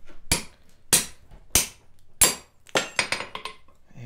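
Hammer blows ring sharply on a steel drift driven through a forged mortise, four spaced heavy strikes followed by a quicker cluster of lighter taps, close and loud.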